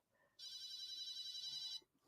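A telephone rings on an outgoing call. One sustained, bright warbling electronic ring sounds close and clear for over a second, then cuts off into near silence.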